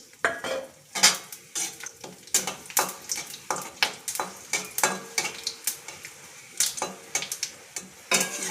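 Whole cumin seeds, dried red chillies and bay leaves frying in hot oil, with repeated sharp stirring scrapes of a utensil against the pan over a faint sizzle, no talk.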